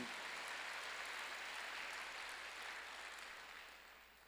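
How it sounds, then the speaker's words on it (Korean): A church congregation claps together during a sermon, a faint, distant wash of applause that holds steady and then gradually fades toward the end. "박수 한번."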